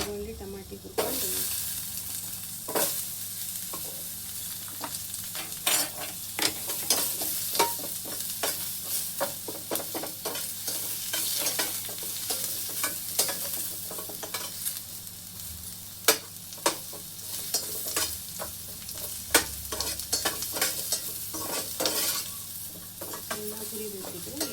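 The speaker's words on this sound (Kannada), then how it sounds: "ಈಗ ಒಂದು ಸ್ವಲ್ಪ ಈರುಳ್ಳಿ ಹುರ್ಕೊಳ್ತೀನಿ" Onion and tomato fry and sizzle steadily in a pan for a home-style curry, with constant hiss and frequent scraping stirs of a spatula, close up and continuous.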